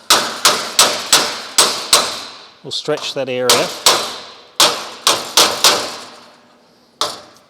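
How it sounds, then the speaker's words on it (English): Sharp, ringing hammer blows striking an oxy-acetylene weld on a metal dolly in quick regular bursts, with a brief spoken phrase between the series of hits. "So hammering straight onto the dolly"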